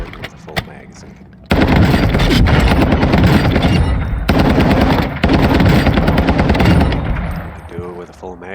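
A battle rifle fires full-auto in a video game, loud rapid sustained bursts of gunfire split by brief gaps, with a few isolated shots at the start and a voice speaking over the action.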